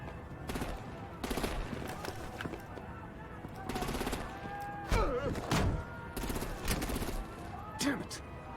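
Rapid bursts of heavy gunfire crack out repeatedly in Batman: The Enemy Within, close and loud in uneven volleys over several seconds, with voices shouting between the shots.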